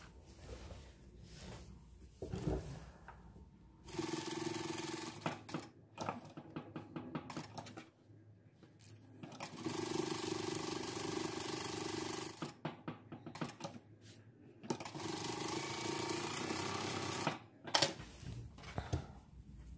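A sewing machine stitches a sailor-collar dress in bursts of fast, rattling needle action. Short pauses and handling noises separate the runs, and there is no speech.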